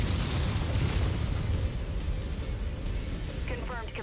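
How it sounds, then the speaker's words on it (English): Ammo explosion rumbling through a mech in MechWarrior 5, a loud, sustained low boom and roar that fills the whole stretch, with a voice speaking faintly underneath. "I may have taken an ammo explosion."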